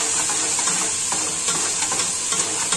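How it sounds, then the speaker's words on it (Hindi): Garlic and ginger paste frying with onions in a hot pan, a loud, steady sizzle with a bright hiss and occasional stirring scrapes, close and continuous. "अब इसमें 1 टेबलस्पून मैंने लहसुन का पेस्ट लिया है और 1 टेबलस्पून मैंने अदरक का पेस्ट लिया है। इसको फ्राई करेंगे।"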